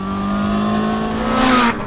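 A Honda CB1000 Hornet SP motorcycle engine revs hard close by, a steady high-pitched drone that climbs near the end and then drops off, with no voices.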